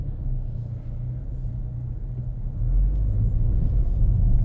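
A new Honda Civic cruises at low speed on active cruise control, heard from inside the cabin as a steady low rumble of engine and road noise that swells slightly louder toward the end.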